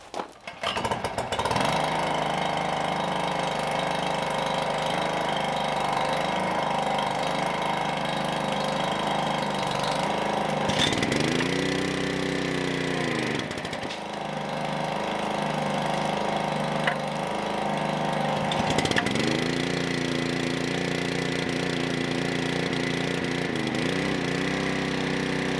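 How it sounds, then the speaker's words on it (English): A small engine cranked up to drive a water pump at an outdoor forest kitchen, running steadily and loud with a rough mechanical drone that dips and surges a couple of times as the throttle shifts. "I'm going to have to crank this engine up so that it supplies water to this"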